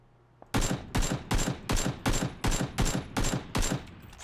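Gunfire in the battle royale game PUBG: a rapid series of nine sharp, loud shots at a steady rhythm of about two per second, close and alone with no talk.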